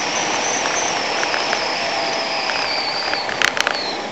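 A Yamaha MT-03 motorcycle engine hums continuously under a steady rush of wind while riding, with a few brief sharp clicks or ticks near the end.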